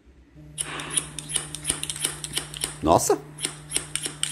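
Rapid, evenly spaced snips from a scissors hair-cutting sound effect in a haircut simulator phone app repeat steadily over a low hum, with a brief spoken exclamation in the middle.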